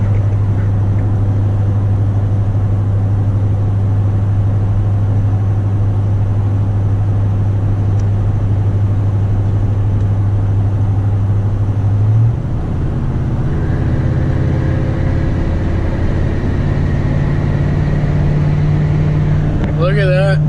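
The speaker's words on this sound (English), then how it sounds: "some of what you're going to hear is going to be a little bit of tire noise" Steady, loud road drone from inside the cab of a 6.7 truck towing a fifth wheel through the mountains, a constant tire rumble with a low hum that shifts pitch midway, and a voice talking over it.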